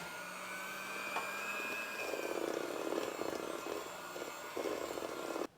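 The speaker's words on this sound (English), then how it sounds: "Alright, I'm mixing at low speed here." Electric mixer on low speed beating sponge cake batter: a steady motor whine with a dull churning texture, holding level and close throughout, then cutting off abruptly at the end.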